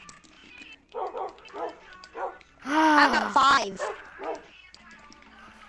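Minecraft dogs bark in short repeated yips during a roleplay game, mixed in with steady talking from several players, with one louder burst of barking and voices in the middle.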